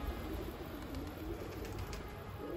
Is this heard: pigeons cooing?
yes